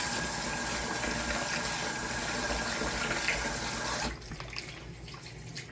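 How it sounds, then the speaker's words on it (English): Running water pours steadily from a tap into a bowl or sink as rice is washed, then the flow drops off sharply near the end, leaving quieter splashing. "So here I'm washing my rice."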